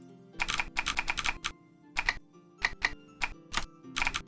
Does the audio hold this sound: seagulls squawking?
no